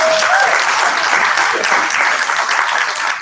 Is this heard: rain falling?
no